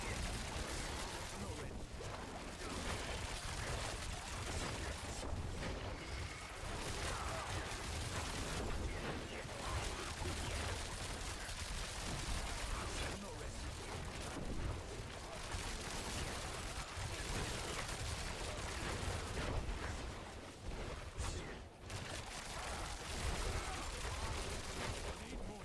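Rogue Barrage attacks in the Diablo 4 video game, close-quarters combat: dense, continuous rapid-fire bursts and impacts layered over game effects, loud throughout with brief dips, with voices talking intermittently.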